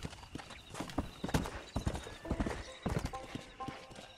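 Hooves clip-clop in a quick, uneven rhythm on a hard surface, close and crisp, with a horse snorting faintly among the steps, in the video game Red Dead Redemption.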